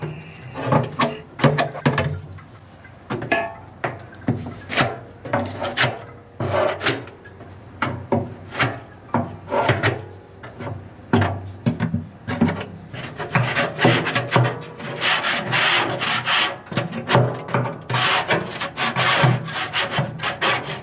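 Grease is scraped from the inside walls of a pellet grill in a run of close, loud rasping strokes, first spaced rhythmically, then merging into denser, continuous scraping toward the end.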